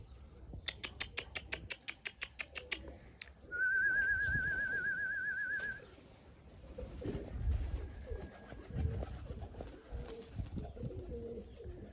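Pigeons and other caged birds at a bird market trading Baku and Iranian breeds, with a rapid series of sharp clicks, then a long warbling whistled call, then soft cooing and rustling at moderate distance.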